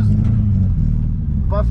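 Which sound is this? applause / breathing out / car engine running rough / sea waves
car engine running rough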